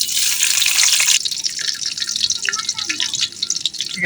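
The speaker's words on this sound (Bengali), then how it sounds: "এখন তেল গরম হয়ে গেছে, তেজপাত, দারচিনি, সাদা এলাচ, কালো এলাচ দিয়ে দিলাম" Bay leaf, cinnamon, and green and black cardamom sizzling in hot oil for a spiced goat-meat and quail-egg pulao, a loud bright crackling hiss that is fiercest at first and then settles into a steady spattering fry.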